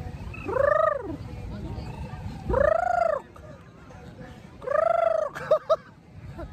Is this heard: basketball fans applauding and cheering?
no